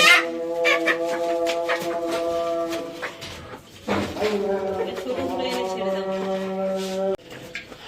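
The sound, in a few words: chickens released into new chicken house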